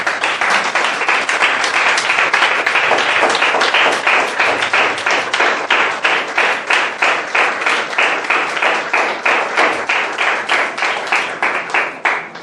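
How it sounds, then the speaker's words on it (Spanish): Loud crowd applause in a church congregation, dense sustained clapping that continues for the whole stretch, then breaks into more distinct rhythmic claps toward the end. "Brinden un fuerte aplauso"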